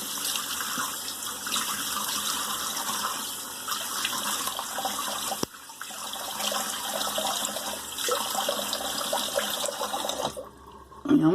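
Steady rushing water runs from a tap for several seconds, fairly close, then stops abruptly near the end.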